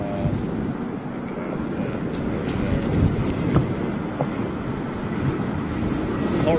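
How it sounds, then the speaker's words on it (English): A strong, gusty crosswind blows across Heathrow Airport, a continuous low roar with steady buffeting on the microphone throughout. "Very blustery. And of course it is a crosswind."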